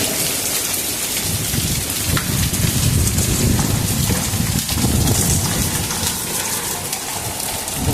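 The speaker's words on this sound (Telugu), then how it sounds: "పెద్ద పెద్దవి పడుతున్నాయి కదా ఐసు గడ్ల" Dense, loud, continuous drumming of large hailstones pelting a tin roof, a steady roar with no pauses.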